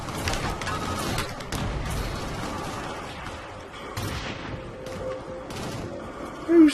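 Heavy, sustained gunfire from the Xbox 360 video game Shadowrun, with dense overlapping shots and thuds that carry on continuously and loud throughout.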